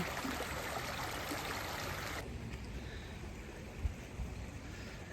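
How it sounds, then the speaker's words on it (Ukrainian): Steady broadband rushing of flowing stream water in a park in Zakopane, Poland, loud at first then softer and more distant, with a faint thump near the end. "тече, тече вода"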